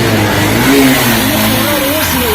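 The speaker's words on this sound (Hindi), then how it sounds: "पूरा रेस नहीं लेती है और रेस छोड़ने के बाद तुरंत बाइक बंद हो जाती है" Honda Livo BS6 motorcycle with an RPM fault that will not rev fully and stalls after the throttle is released; the engine revs up and down in a mid-pitched drone while someone talks over it.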